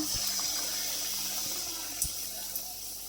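Potato chops for Bengali aloo chop being lowered into hot oil to deep-fry, giving a steady, close, hissing sizzle with a few soft clicks and no talk.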